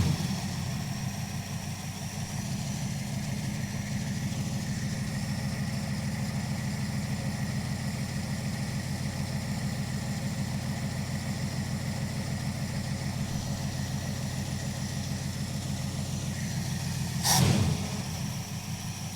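A car engine idles steadily and evenly at close range while its idle screws are adjusted, a constant low rumble lasting throughout with a brief sharp noise near the end.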